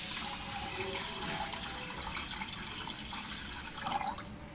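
Water poured into sugar with cardamom in a cooking pot for sugar syrup, a steady splashing, gurgling stream heard up close and alone, fading slightly toward the end.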